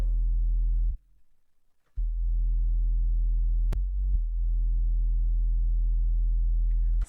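A deep, sustained sub-bass synth tone in a deep house track drones loudly, briefly cutting out, then returning steady with a short click and pitch shift midway.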